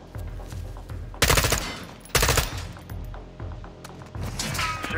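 Gunfire in Call of Duty Modern Warfare II: two loud bursts of rapid automatic fire, close, with scattered single shots, thumps and impacts in between.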